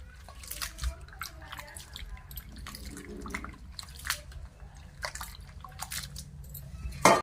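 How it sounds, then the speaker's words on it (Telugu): Potato slices being washed by hand in salted water, with irregular drips, splashes and small sloshes spread across the stretch, soft and close with a louder clatter at the very end. "ఉప్పులోనే చిప్స్ చేయాలంటే ఉప్పు వాటర్ వేసుకుని ఉప్పు వేసుకుని శుభ్రం కడుక్కోవాలి."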